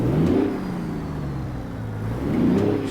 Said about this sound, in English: So we're gonna rev it inside the truck.